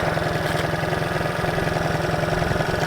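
A restored, powder-coated motorcycle idling a little high while not yet fully warmed up or tuned, a steady close throb with even pulsing and no talk.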